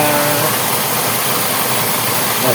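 A Gould SJ20 water pump running under test at about 40 PSI, a loud, steady mechanical hum and rush of water without a break, heard close by.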